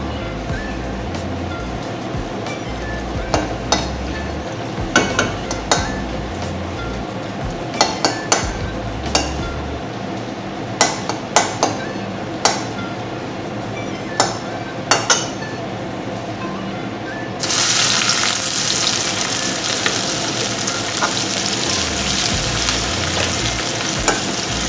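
Dried chilies and onions fry in a pan with steady sizzling, punctuated by sharp clinks and scrapes of a utensil stirring, and the frying hiss grows louder and brighter near the end.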